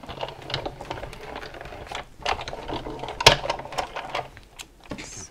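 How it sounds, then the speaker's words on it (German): A hand-cranked die-cutting machine pulls card stuck to a cutting die through its rollers, giving a steady ratcheting, gear-driven grind over about five seconds with one sharper clack partway through. Nobody speaks. "Und kurbel mir das noch einmal durch."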